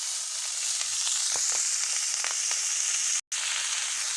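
Fresh spinach hits a hot pan with a steady, bright sizzle and crackle of frying, close and continuous, with a few soft stirring clicks and a brief dropout near the end.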